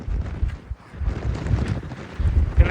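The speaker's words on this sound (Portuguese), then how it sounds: "O vento tá quentinho pelo menos." Warm wind blows across a volcano crater, buffeting the microphone in uneven, rumbling gusts that swell and fade, with no voices heard.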